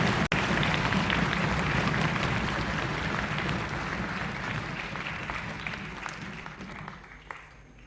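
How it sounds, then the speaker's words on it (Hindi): Loud, dense applause from an audience at an event in the Rajasthan Legislative Assembly, a sustained roar of clapping that starts strong and gradually fades toward the end. "जोरदार तालियां मीना जी और उनके साथियों के लिए"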